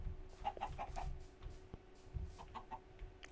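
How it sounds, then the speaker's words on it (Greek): Chickens in Minecraft clucking in short, soft bursts, a few quick clucks, a pause, then more, over a low rumbling background with a faint steady hum. "Έχουμε και κοτόπουλα."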